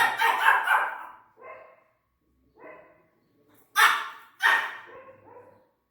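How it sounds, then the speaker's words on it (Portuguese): An angry female dog barks in sharp, loud bursts, with an opening cluster followed by single barks and then two strong barks, separated by quiet gaps. "A cachorra tá brava."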